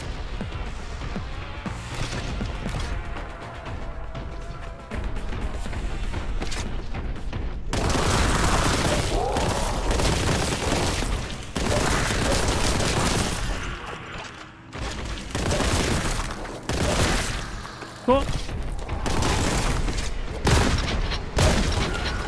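Shotgun fire in the video game Warhammer 40,000: Boltgun booms out in loud repeated blasts over a dense backdrop of crashing impacts and game effects, continuing throughout without a break.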